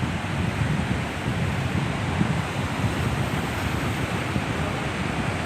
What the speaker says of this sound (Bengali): সাগরের তীরে।